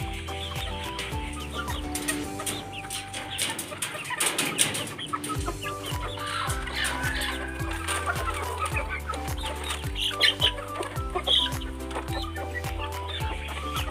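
Hens cluck steadily over a loud backdrop of rhythmic music that fills the whole stretch, the birds' calls partly buried beneath it.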